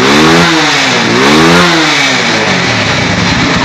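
A Euro 186 motorcycle engine with a stalling and jerking fault revs loudly, pitch rising and falling in two quick surges before settling into a rough idle.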